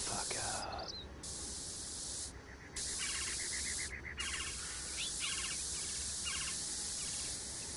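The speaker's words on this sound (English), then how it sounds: "take that spray can and give that billboard a new coat of paint." A spray can paints a billboard in the Postal 4 video game, with a steady loud hiss running throughout, briefly cut twice, while faint chirps sound in the background and a voice talks over it.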